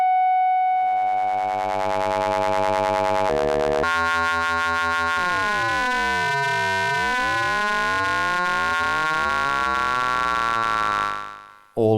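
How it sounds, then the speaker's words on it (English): An Endorphin.es Furthrrrr Generator eurorack oscillator, with a sawtooth modulating the second oscillator, produces loud ring modulation tones: steady buzzy harmonics that shift abruptly, then sweep into swooping, interweaving metallic partials before cutting off. "All those beautiful ring mod tones you'd expect."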